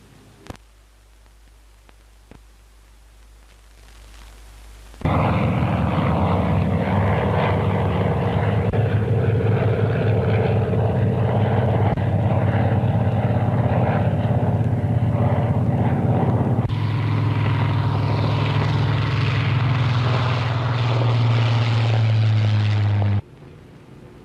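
Piston-engined propeller aircraft of a Royal Navy squadron fly in a carrier landing circuit in 1945, a loud, sustained engine drone that starts abruptly after a quiet opening and holds steady, with a shift in tone as planes pass.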